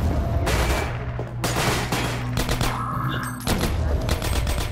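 Rapid gunfire in the shooter Half-Life 2: Episode One, bursts of crackling shots rattling almost nonstop with a short gap before a renewed volley, loud and close over a steady low game hum.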